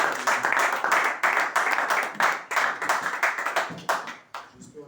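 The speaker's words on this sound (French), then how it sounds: "On va acclamer très fort pour la gloire de Dieu." Church congregation clapping together in a steady, rhythmic beat, loud and close, with faint voices mixed in and the clapping thinning out toward the end.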